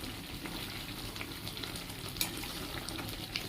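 Prawns fry in hot oil with asafoetida for a taro and prawn curry while being stirred, giving a steady, dense sizzle and hiss with occasional sharp spits and scrapes close by.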